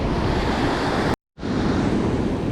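Ocean surf on an Oregon beach during surf perch fishing, a loud, continuous roar of breaking waves mixed with wind buffeting the microphone, with one brief dropout midway and no voices.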